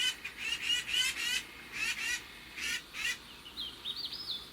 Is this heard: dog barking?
no